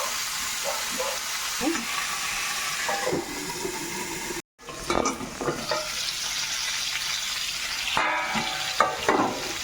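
A duck egg fries in hot oil with a loud, continuous sizzle and scattered crackles. The sound cuts out for a moment midway, then carries on with occasional stirring scrapes.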